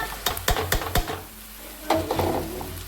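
Carrot pieces tipped into a pan of frying onions and stirred, a burst of quick clattering scrapes, a brief lull with a soft sizzle, then more stirring, close and alone.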